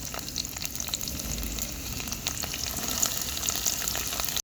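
Onions frying in oil for a village-style chicken ribbon samosa filling, a steady close sizzle with crackling spits running throughout and no voices.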